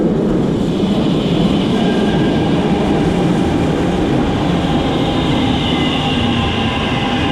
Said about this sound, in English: We have the metro